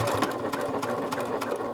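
A sewing machine stitching fabric in a steady, fast mechanical chatter, close and continuous with a rhythmic needle clatter throughout.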